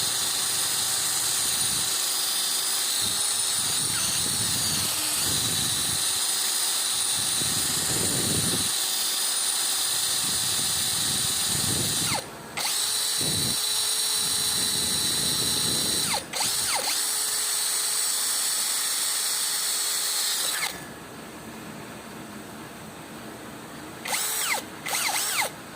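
Tanzu TZ-Z-80 MT-21V brushless cordless drill boring a hole with a 6 mm masonry bit, a loud steady whine with grinding surges, briefly pausing twice, then stopping near the end with faint trailing clicks.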